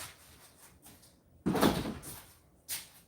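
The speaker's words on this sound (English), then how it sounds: "Let me get the dogs back in so I can open this big door" A big door swings open at close range with a loud, broadband scrape and rumble lasting about half a second, followed by a quieter rattle and a short knock near the end, against a quiet indoor room with dogs nearby.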